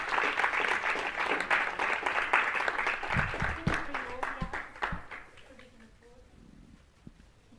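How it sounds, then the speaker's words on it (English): Audience applause for artists at an art event, a dense burst of clapping that holds steady for several seconds, then thins out and fades while a voice talks underneath. "If you could give them a round of applause,"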